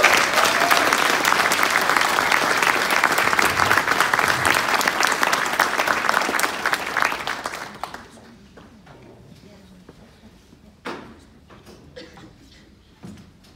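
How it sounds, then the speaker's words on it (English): Warm applause from an audience at a community award event at Moreton Hall fills the first eight seconds as a dense, loud clapping wash, then thins to a few scattered claps and small knocks. "Please give Ken a warm round of applause."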